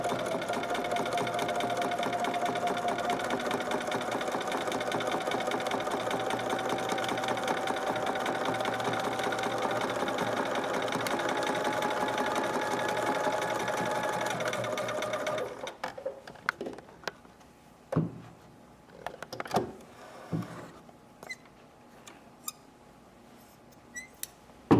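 A sewing machine runs a continuous fast stitching whir for about fifteen seconds while stitching across the edge of a scarf to attach fringe, then stops, leaving scattered light handling clicks and taps.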